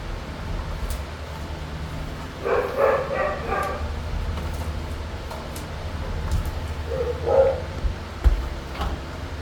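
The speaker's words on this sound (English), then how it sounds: "Dogs are barking." Several dogs bark in short clustered bursts at a moderate distance, with quieter background noise between the barking.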